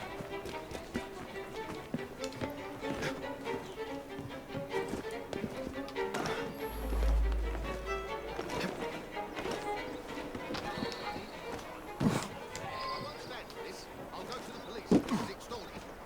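Rhythmic horse hoofbeats clatter at a gallop in Assassin's Creed Syndicate beneath a voice talking, with occasional sharper knocks standing out from the steady clip-clop.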